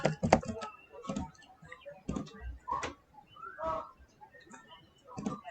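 Fingers tap on a computer keyboard in short irregular bursts of clicky keystrokes, close by, with pauses between words and a faint chirp in the background.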